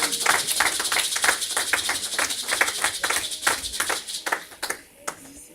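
Scattered hand clapping from a church congregation during a French sermon, a dense crackle of claps that thins out and fades over the final second.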